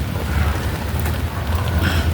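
Rain falls in a steady, full hiss over a low rumbling background, continuous and fairly loud with no voices.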